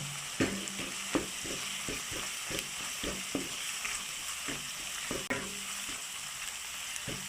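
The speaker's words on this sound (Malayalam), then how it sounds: "ഇതിൽ നിന്ന് മാറ്റി നമുക്ക് ബാക്കിയുള്ള വെളിച്ചെണ്ണയിൽ നമുക്ക് സവാള വഴറ്റിയാൽ മതി" Sliced onions and green chillies saute in coconut oil, a continuous close sizzle punctuated by regular knocks and scrapes of a spoon stirring the pan.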